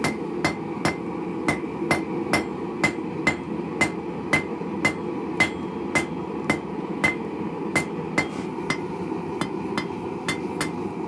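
Steel hammer blows drawing out the handle of a forged bottle opener into a long skinny taper, about two ringing strikes per second in a steady rhythm, loud and close with a faint background hum.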